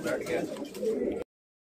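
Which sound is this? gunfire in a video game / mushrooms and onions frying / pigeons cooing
pigeons cooing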